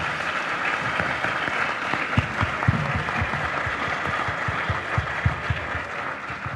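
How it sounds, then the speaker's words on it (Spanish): University community audience giving a loud applause, many hands clapping densely and continuously with sharper individual claps standing out near the microphone, no voices over it. "reconozcámonos con un fuerte aplauso"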